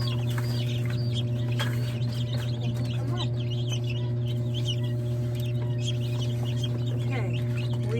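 Newly hatched chicks chirp continuously inside an incubator, with many high, rapid peeps close by over a loud, steady mechanical hum from the machine.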